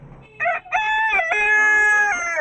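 A hen kept with chicks on a rooftop gives a loud, drawn-out call close by: a short note, then longer sustained cackling phrases lasting about two seconds, with no talking over it.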